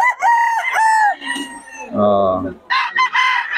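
A nine-month-old stag crows loudly and close at a busy poultry market, breaking into clucks and rising calls, with a brief exclamation from a person.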